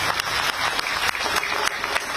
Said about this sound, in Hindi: बहनों के लिए भी ताली बजा दीजिए